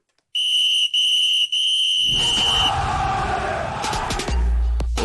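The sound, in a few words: referee whistle blowing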